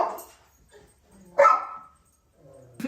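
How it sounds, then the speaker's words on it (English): A dog barking indoors: a few sharp, separate barks and a short yip come close to the microphone, with quiet gaps between them. "I'm surprised she hasn't started barking yet."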